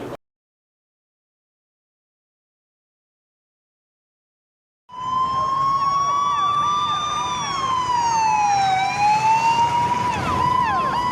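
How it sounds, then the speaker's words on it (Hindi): After a silent gap, fire brigade vehicles arrive at a blazing mall fire on Golf Course Road in Gurugram, their wailing sirens sweeping up and down, loud and sustained over road traffic. "मौके पर फायर ब्रिगेड की कई गाड़ियां मौजूद हैं"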